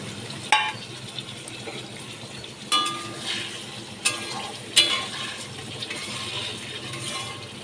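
Spiced water poured into a hot pan holding mustard paste while cooking hilsa with taro, giving a soft continuous hiss and bubbling with a few sharper clinks and splashes scattered throughout.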